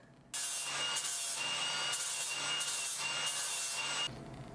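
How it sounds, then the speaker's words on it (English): Light deburring of metal machine parts for a marble-drop mechanism on a music machine, a steady close rubbing and filing scrape that runs in even strokes for several seconds, then stops. "I should actually lightly deburr these."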